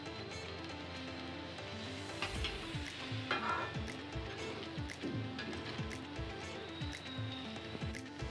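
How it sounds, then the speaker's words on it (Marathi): Egg fried rice with spring onion, carrot, coriander and a splash of vinegar being stirred in a frying pan: a soft continuous sizzle with frequent rhythmic scrapes and taps of the spatula. "भात चांगला मिक्स करून घ्या."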